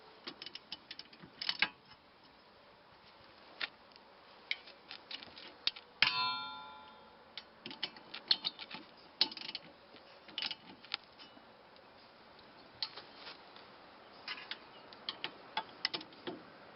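A hand ratchet clicks in irregular bursts while lug bolts on a Honda Civic are snugged up during a wheel bearing replacement, with occasional metallic clanks, fairly quiet and close.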